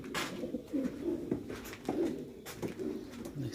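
A flock of big Qatari pigeons keeps up a steady low cooing, with rolling calls rising and falling from several birds close by and occasional wing or movement noises, and no speech.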